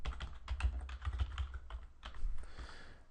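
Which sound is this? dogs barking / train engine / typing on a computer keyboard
typing on a computer keyboard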